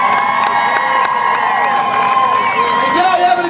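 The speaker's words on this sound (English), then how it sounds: "So let's give her a big round of applause." Crowd cheering, whooping and clapping at an outdoor country music festival during a New Holland tractor race event, a loud, dense roar with shrill children's shouts running steadily throughout.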